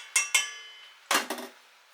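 A metal whisk is pulled from among kitchen utensils, two quick bright metallic clinks followed by a louder clattering rattle of pans and cutlery, close and isolated.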